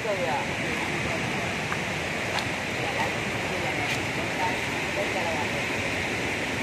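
A stream flowing down to join a big river gives a steady, dense rush of water that holds at an even level throughout, with faint scattered ticks over the constant hiss.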